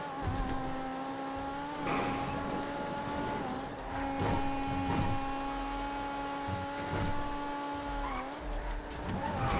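A Rumpel Custom race car in a GTA FiveM race drives at a steady high engine drone, holding its pitch with small shifts and dips, loud and continuous with no talking.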